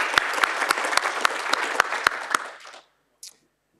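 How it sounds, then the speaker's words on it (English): Dense clapping from an audience with a few sharp standout claps, fading out after about two and a half seconds, followed by a brief faint sound. "can we please give another round of applause to Dev Demand?"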